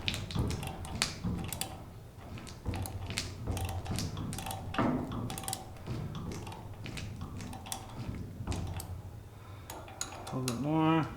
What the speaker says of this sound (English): I'm just gonna go ahead and wrench it up in there.